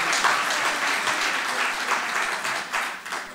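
Audience applause at a lawyer's evening talk during a town festival, a dense, steady wash of many hands clapping up close that thins out slightly toward the end.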